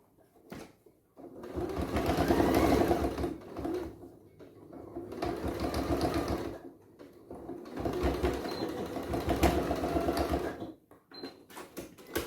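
A sewing machine runs in three bursts of rapid mechanical stitching on a small hand sanitiser pouch, with short quiet pauses between runs, close and clear.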